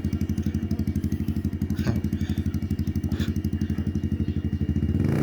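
A Yamaha XSR155 motorcycle with an aftermarket full exhaust idles with a loud, rapid pulsing exhaust throb, rising in a couple of brief revs, close by and steady.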